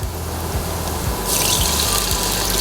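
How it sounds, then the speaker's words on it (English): A mixture of vinegar, soy sauce and green chillies poured into a hot pan, making a sudden loud splashing rush that turns into a broad hiss of liquid hitting the hot metal, close and steady with no talk. "I'll be adding my mixture of vinegar, soya sauce and green chilies."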